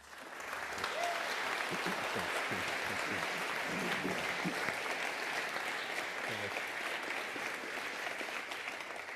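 Sustained applause from a full room welcoming a speaker at a Climate Commission community forum in Hobart, with many hands clapping densely and evenly for several seconds and no talk over it.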